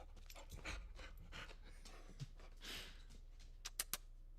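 A dog that has just hurt herself pants in quick, uneven bursts nearby, with a few sharp clicks and thumps near the end and no talking.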